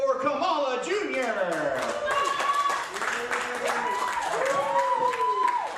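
Crowd at an independent wrestling show applauding and cheering for Kamala Jr., a steady wash of clapping with a ring announcer's amplified voice talking over it throughout.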